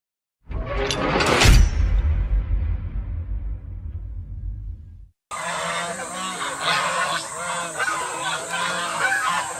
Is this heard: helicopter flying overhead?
no